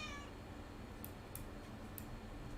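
A cat gives one short, faint meow right at the start, followed by a few soft, sharp ticks against quiet room noise.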